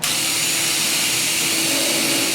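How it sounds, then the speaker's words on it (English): A power drill drives hex-drive construction screws into kitchen cabinet wood, a loud, steady, close-up whirring buzz lasting the whole moment. "I'm going to drill a couple more screws."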